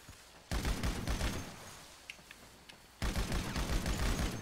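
Bursts of gunfire in GTA 5 during a zombie-survival roleplay, two loud sustained volleys of rapid shots separated by a quieter stretch with a couple of faint isolated pops.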